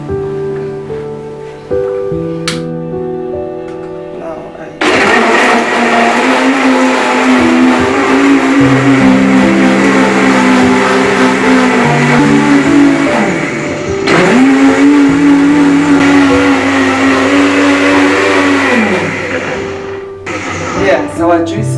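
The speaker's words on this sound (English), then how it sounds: "So I'm using my giant size blender." A giant-size blender whirs steadily through juice with water added, a loud sustained motor roar broken by a brief dip in the middle and a short stop near the end.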